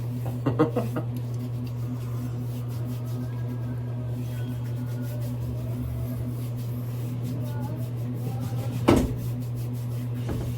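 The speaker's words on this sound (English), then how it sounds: "My son's got this little train, and pretty sure he just ran it right into the door" A small hard toy train bumps into a door with a couple of quick knocks early and one sharper thud later, over a steady low hum.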